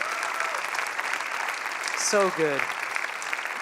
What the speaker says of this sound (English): can you give them another round of applause, our amazing speakers?